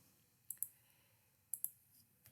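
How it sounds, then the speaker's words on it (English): A computer keyboard's delete key is struck twice in quick succession, then twice again a second later, giving sharp, close, crisp clicks over a quiet room hum. "I press delete on my keyboard"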